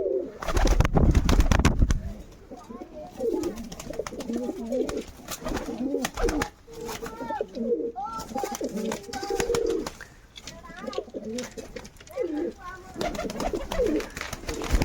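Pigeons in a loft coo repeatedly in soft, throaty phrases, close and steady, with a loud burst of noise at the start and talking at times.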